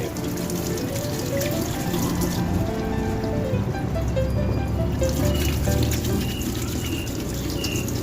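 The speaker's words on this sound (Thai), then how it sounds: "ขั้นตอนแรกนะครับก็เริ่มจากการล้างเอาดินทราย ที่อยู่ที่หัวกระชายดำเนี่ย ออกให้หมดนะครับ" Black galingale roots are washed in water to rinse off sand, with continuous running and splashing water, close and steady throughout.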